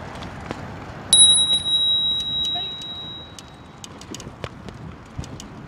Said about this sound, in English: It's nice to keep people informed with a bell where you are.